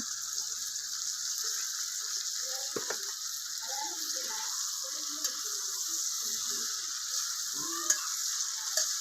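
Onions sizzle steadily in a pan with salt added, a constant bright frying hiss with soft scattered stirring scrapes and clicks underneath, close, no voices.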